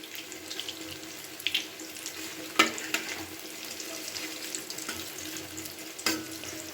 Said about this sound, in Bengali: বড়াগুলোকে একটু ভালো করেই ভেজে নিতে হবে